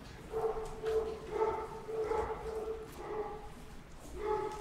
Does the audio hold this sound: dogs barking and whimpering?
yes